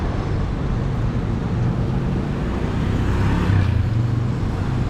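Interior rumble of a double-decker bus riding through Kuala Lumpur, a steady low engine and road drone with a slight swell near the end, with no talking.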